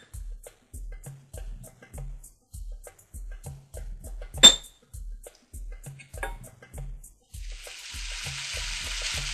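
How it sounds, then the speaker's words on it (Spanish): Shrimp in a little oil in a frying pan, preceded by a run of regular soft low knocks and taps, then a steady hiss of frying rises clearly over the last two seconds. "vamos a poner en una sartén un poquito de aceite y vamos a echar nuestras gambas"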